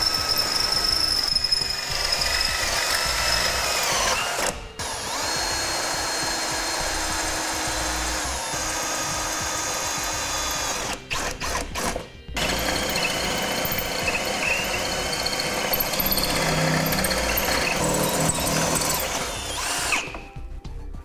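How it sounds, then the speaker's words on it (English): Loud, steady whine of a power drill with a 13/32 bit drilling pilot holes close by, with a couple of brief pauses between bursts of drilling. "we'll go ahead and mark our holes first with our 13/32 drill bit and do a pilot hole"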